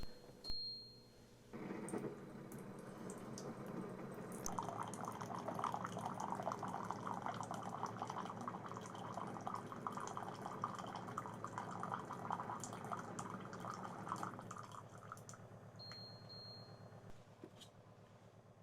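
A Cove Pure countertop water purifier dispenses 8 ounces of hot water, a steady quiet stream of pouring liquid lasting about ten seconds, framed by soft beeps at the start and end.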